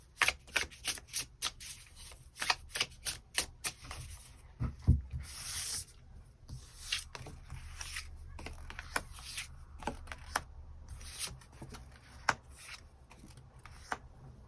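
Tarot cards are shuffled and drawn by hand in a long run of crisp, close riffling snaps and slides, with a few louder slaps, all with no voices.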